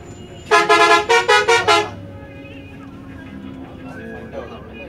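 A Scania bus horn sounds in a rapid burst of about six loud, closely spaced honks lasting under two seconds, followed by quieter engine and traffic rumble.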